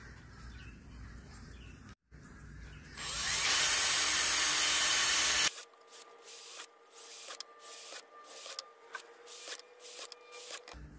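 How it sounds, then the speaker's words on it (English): A power drill whines loudly and steadily for a few seconds, then a run of short, repeated bursts as it bites through the thin metal of a soup can, one after another. "on the top, we're gonna drill one single even row all the way around"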